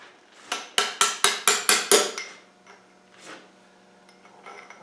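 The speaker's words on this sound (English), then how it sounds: "Let's get a little hammer and chisel." A quick run of about seven sharp metallic strikes from a hammer and chisel on metal during engine repair, evenly spaced, followed by a few softer scraping knocks; close and fairly loud.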